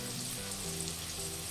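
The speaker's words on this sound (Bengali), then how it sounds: "আমি এর মধ্যে আলুগুলো হালকা ফ্রাই করে নেব" Potatoes fry lightly in a kadai, a soft, continuous low sizzle heard close and alone, with no speech over it.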